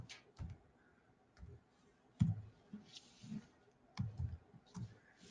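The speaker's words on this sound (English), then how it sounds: "So I'm just going to type in here." Quiet keyboard typing during a building-control software session, a few sparse clicks and taps at irregular intervals, faint and close with low background hum.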